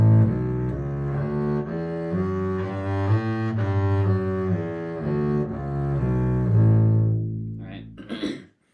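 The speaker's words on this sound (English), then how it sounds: "is to play the scale with 4 notes slurred" A shiftless A Mixolydian scale played in groups of four slurred notes, smooth and legato, with steady pitch steps running up and down before a brief final flourish, close and clear.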